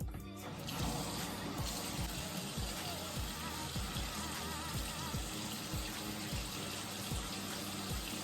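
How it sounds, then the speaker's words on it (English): Tap water runs steadily from a faucet into a sink while someone rinses their face, a continuous close splashing flow with occasional rhythmic splashes from hands. "So you want to go ahead and rinse off with water."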